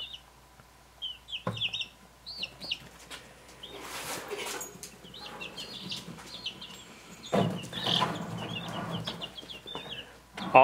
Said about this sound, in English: All the Icelandic chicks and chickens are doing great.